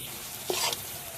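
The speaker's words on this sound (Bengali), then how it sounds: "ধনিয়া পাতার সঙ্গে সবজিটা ভালোভাবে মিশিয়ে নেব" Cabbage and chopped coriander leaves are stirred in a frying pan with slit chillies, a single short scrape of the spatula over a soft steady sizzle, fairly close.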